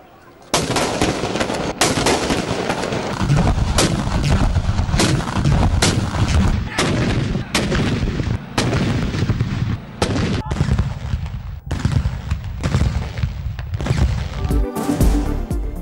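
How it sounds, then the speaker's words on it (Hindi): Cannon salute fired at daybreak for a Mawlid celebration in Pakistan: a rapid series of loud, booming blasts, one after another in irregular succession with brief gaps, heavy and close, continuing throughout. "दिन के आगाज़ पर तोपों की सलामी।"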